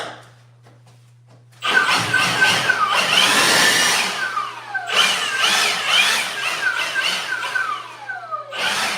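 Leaf blower started up and running loudly at close range during a cabinet trimming job, a steady high whine and roar that surges and dips with the throttle for several seconds after a brief quiet start.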